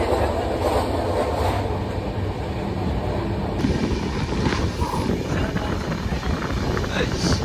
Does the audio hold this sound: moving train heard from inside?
yes